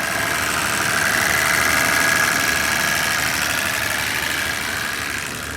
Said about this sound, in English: As we begin to charge, compressor does start to try to engage.